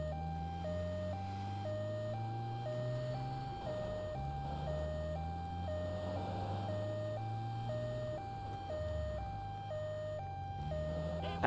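Ambulance siren in GTA 3, a steady two-tone wail alternating regularly throughout, loud and continuous over the droning engine of the driven vehicle, with no talk.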